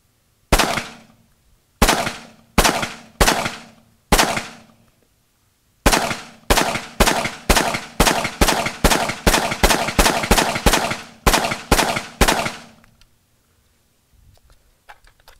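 An AR-15 rifle firing from a Magpul PMAG magazine that had been left loaded for over two years, with loud, sharp outdoor shots. Several spaced single shots come first, then a rapid, steady string of about seventeen rounds, and quiet follows.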